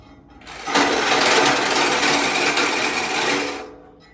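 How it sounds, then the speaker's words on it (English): A reciprocating saw cutting through a car dashboard: a loud, continuous buzzing whine that spins up, holds for about three seconds at close range, then winds down, with no talk. "we will get that sawzall out, or the body saw, one or the other, and cut that out"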